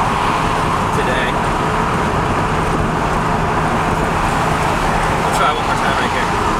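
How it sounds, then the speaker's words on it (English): Steady road noise from surrounding traffic heard inside a 2008 Subaru STI on a highway, a continuous broadband rumble and tire roar with a faint passing swell near the end. "there might be too much road noise from other cars to hear it today"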